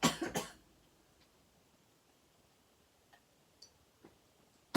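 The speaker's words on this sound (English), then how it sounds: "It's this stupid cough that's come back" A couple of quick, close coughs open the clip, followed by near silence with a few faint clicks.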